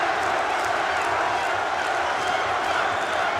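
A boxing crowd roars steadily for Larry Holmes during his bout with Ray Mercer, a dense, continuous wash of arena cheering and noise with no break across the whole moment.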